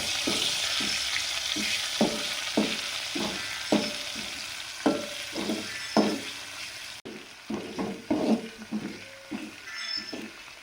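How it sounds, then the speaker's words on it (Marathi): A paste of ginger, garlic and coriander fries in hot oil, hissing steadily while a spatula scrapes and stirs it in regular strokes, close up, with the rhythm briefly breaking partway through. "वाटण मस्तपैकी परतून घेऊया"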